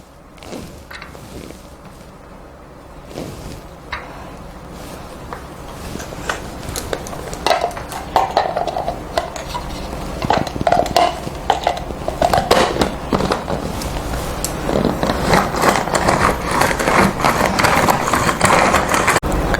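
A manual vegetable chopper cuts green chillies and onion, giving a run of sharp plastic clacks and blade chops that start sparse and quiet, then grow into rapid, louder, busy chopping near the mic.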